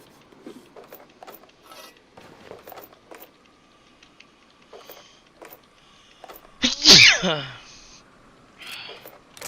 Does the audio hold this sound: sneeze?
yes